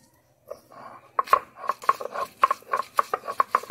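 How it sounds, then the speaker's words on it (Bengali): Kharkol leaves with turmeric being ground by hand on a grinding stone, with rhythmic scraping and knocking strokes that start softly and then settle into a quick, regular beat close by. "হলুদ দিয়ে একটুখানি নেড়ে নিচ্ছি, নিয়ে আমি বেটে নিচ্ছি"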